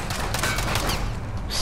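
Dense in-game gunfire from a Warzone match, a steady wash of overlapping shots and thuds filling the whole moment without a break, loud and close with no clear talk over it.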